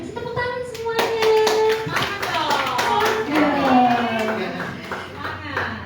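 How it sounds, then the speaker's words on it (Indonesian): An audience claps in a steady patter for several seconds at an Indonesian film event, with voices talking over the clapping. "Oke, terima kasih, tepuk tangan semuanya."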